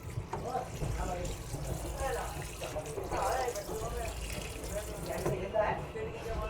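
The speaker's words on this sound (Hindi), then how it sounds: "पानी पुनी आ रहा है" Water runs from a tap in a moving train's washroom, a continuous splashing wash under steady train rumble, with people talking over it.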